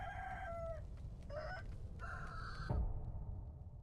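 A rooster in the game Sekiro: Shadows Die Twice crows in a series of three strained calls over steady game background noise, followed by a dull thud.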